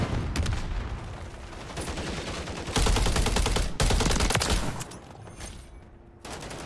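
JAK Heretic Carbine fire in a shooter video game comes as dense, rapid automatic bursts, loud and close, with brief pauses between strings of shots and no talking.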